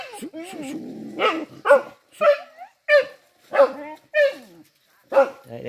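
A hunting dog barks at crossbred wild boars, a close series of about seven loud, sharp barks with short pauses between them, some with a growly edge.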